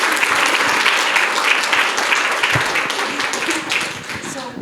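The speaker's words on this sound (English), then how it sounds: "clap when someone does that" An audience in a talk or discussion event breaks into sustained applause. The dense, loud clapping fills the whole stretch and tapers slightly toward the end.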